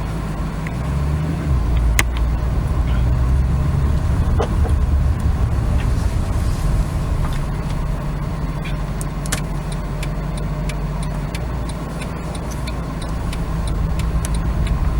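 A Mercedes C63 AMG 507 Edition engine gives a brief rise in pitch and then settles into a deep, steady, close burble, heard through an open window with faint ticking clicks scattered over it.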